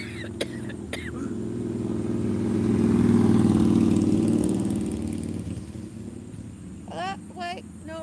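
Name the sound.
motorbike engine idling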